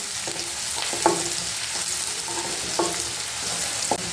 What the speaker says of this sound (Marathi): कांदा सोनेरी रंग येईपर्यंत परतून घ्यायचा